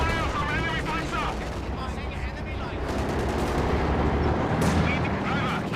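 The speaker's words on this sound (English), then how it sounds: "Under fire from enemy Panzer." Tank gunfire in a Panzer IV video game battle, dense rumbling cannon and gun blasts over a steady low roar, with a voice talking over the din.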